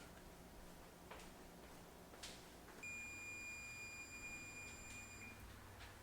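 An oven timer buzzer during cheesecake baking: a steady electronic tone starts partway through and holds for a few seconds over a quiet room hum, with a fainter higher tone layered above it.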